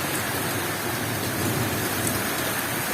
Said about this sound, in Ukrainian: І зараз отакий дощ.